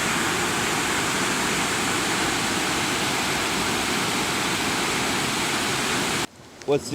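A creek in Bechler Canyon, Yellowstone, rushes in a loud, dense, steady wash of water noise up close, then cuts off abruptly near the end as a voice briefly speaks.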